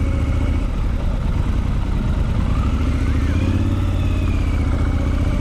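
A Triumph Scrambler 1200 XC motorcycle engine runs at a steady, loud idle close by, a dense mechanical rumble with faint clatter throughout and no talk.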